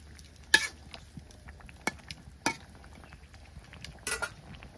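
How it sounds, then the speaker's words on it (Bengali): Fish stirred into a curry in a pan: a few sharp utensil scrapes and clinks against the pan, spaced apart over faint sizzling, close by and with no talking. "মাছ দিয়ে দিই, সব কিছু দিয়ে মিশিয়ে নিই।"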